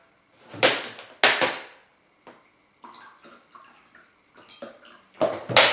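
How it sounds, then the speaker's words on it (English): Just-boiled hot water is tipped into a container to sterilise it, coming in several short splashing pours with quiet gaps and gentle trickles between them. "We'll tip a bit of that hot water into"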